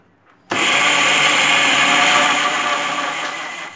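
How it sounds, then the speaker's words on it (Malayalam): An electric mixer grinder whirs on at full power after a brief quiet start, blending spices and grated coconut for puzhukku in a steady, loud, continuous drone that eases slightly toward the end. "ഇതുപോലെ തോരനൊക്കെ ഒന്ന് ചതച്ചെടുക്കുന്നത് പോലെ അരച്ചെടുക്കണം"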